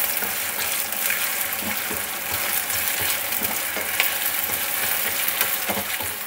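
Meatballs sizzle and fry steadily in a pan with garlic and onion, a dense, continuous crackle with a few soft stirring clatters, up close and with no talking.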